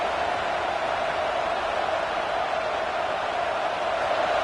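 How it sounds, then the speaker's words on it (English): A loud crowd at a football game fills the stadium with a steady, dense roar that holds at an even level throughout, with no single voice standing out. "listen to this crowd noise. This stadium is vibrating."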